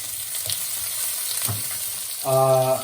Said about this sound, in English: You have to keep stirring, or else it'll get too hard on one specific side.